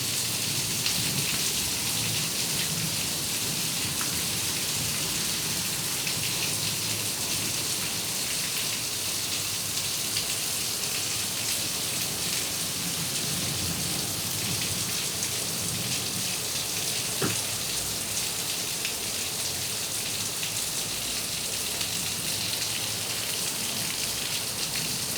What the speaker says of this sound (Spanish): Ese trueno me da miedo.